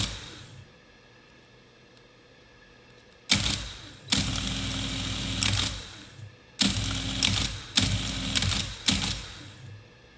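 A Monroe 8N-213 electromechanical calculator, partly restored and with a carriage that still sometimes sticks, sits quietly and then runs in several loud mechanical clattering bursts of gears and dials, with short pauses between them.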